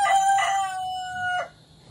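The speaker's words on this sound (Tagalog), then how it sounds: "maraming mga manok dito mga ka-farmers" A rooster crows once, close and loud, on a farm crowded with chickens, a drawn-out call that cuts off sharply, with faint background noise afterward.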